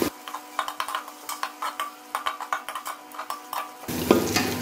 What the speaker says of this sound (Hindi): अब हम इसके अंदर जो है साथ ही अपना थोड़ा सा अदरक लहसुन की जो 1 चम्मच पेस्ट है वो शामिल कर देंगे